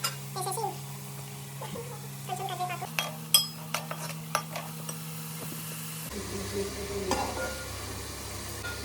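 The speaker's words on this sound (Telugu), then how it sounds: "ఇది బాగా మంచిగా వేయించుకోవాలి అంట." Fish frying in a pan for a Telugu tamarind fish curry, a steady close sizzle with scattered clinks of a utensil against the pan throughout.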